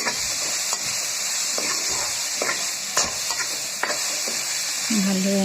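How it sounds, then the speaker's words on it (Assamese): Banana heart curry with carrots is stirred in a frying pan, giving a soft continuous sizzle with a scrape of the spoon every second or so, then a brief tonal sound right at the end. "ভালদৰে এনেদৰে লৰাই"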